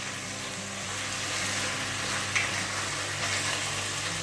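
Flour cooking with browned beef in a pot for beef bourguignon, a soft, steady sizzle close by with a faint scrape of stirring and no talk.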